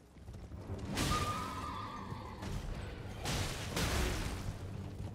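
Horse hooves galloping in Elden Ring during a mounted battle, loud rushing thuds in surges with gaps between, mixed with game noise and no talk.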